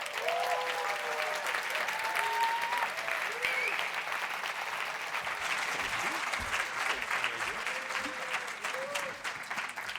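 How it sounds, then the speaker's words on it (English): Warm audience applause at a documentary film festival awards ceremony, a broad sustained roar of clapping from a large crowd, with a few voices and cheers rising faintly over it. "Please give him a warm round of applause."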